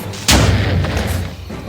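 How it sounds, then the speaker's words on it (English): A bomb explodes in a video game with a single sudden loud boom, its heavy low rumble lingering and slowly fading over the next second and a half. "I'm waiting for the explosion"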